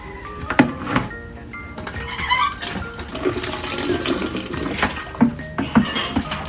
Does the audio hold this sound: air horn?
no